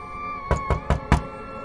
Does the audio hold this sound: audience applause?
no